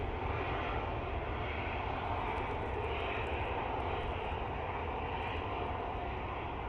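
A Ryanair Boeing 737-800 coming in to land at Manchester Airport on a windy day gives a continuous, loud engine roar that holds steady throughout, with no talk.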